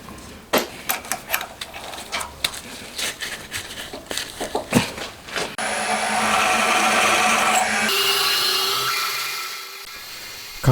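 Machining a 5 mm through-hole in the crankcase of a home-built 125cc four-cylinder 16-valve engine: a string of sharp knocks and taps gives way to a steady, loud cutting whine with tonal hum that holds for several seconds, then fades.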